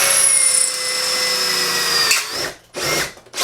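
A power drill bit grinding into heated steel plate armor, a harsh whining drill note with rising squeals that breaks off near the end into short bursts.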